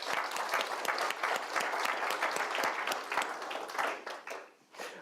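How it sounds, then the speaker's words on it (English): A roomful of people applauds startup founders at a presentation event, dense clapping that holds steady and loud, then thins and tapers off near the end. "help me with a big round of applause for them"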